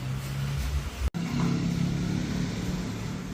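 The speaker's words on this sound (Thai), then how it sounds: "ลองทำการ สตาร์ท เครื่องยนต์ ดู" A car engine cranks and catches, then settles into a steady, close idle after a brief cutout.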